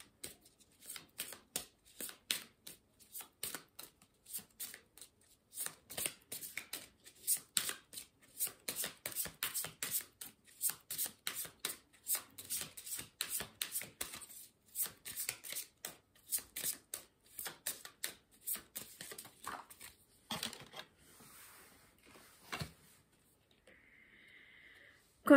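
A deck of blue tarot cards shuffled by hand: a long run of dense, crisp riffling and slapping bursts, close and steady, with a brief pause near the end.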